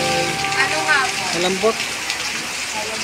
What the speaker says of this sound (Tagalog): hindi na tumitigil ang ulan mga idol oh